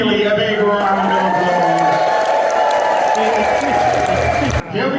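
Large convention crowd claps and cheers steadily for several seconds, a loud, dense wash of applause with voices mixed in, cutting off abruptly near the end.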